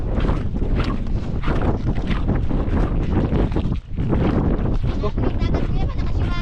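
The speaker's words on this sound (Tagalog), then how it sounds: "malakas yung hangin" Strong sea wind roars and buffets the microphone near the shore of an island, a loud continuous rumble with gusty surges, and a brief lull partway through.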